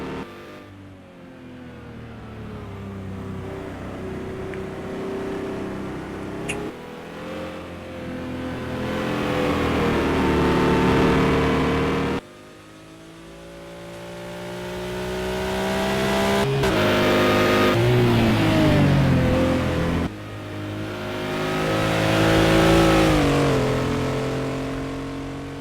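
A race car engine in the Simraceway sim racing video game revs and climbs through gears, falling and rising again in long sweeps across repeated shifts, loud and close with no voices.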